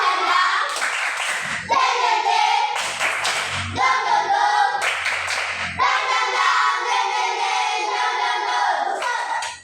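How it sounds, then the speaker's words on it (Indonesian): Children in a primary school classroom perform a rhythmic clapping routine, bursts of hand claps in patterned groups repeating across the clip, with young voices chanting between the claps. "Sekali lagi tepuk semangat."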